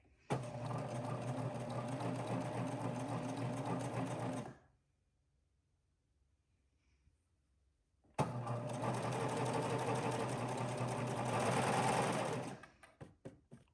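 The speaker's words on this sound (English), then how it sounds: "So as we sew, we're sewing on this curve here." A sewing machine runs in two steady, close bursts while stitching along a curved seam, its fast even motor whir pausing for a few quiet seconds in between.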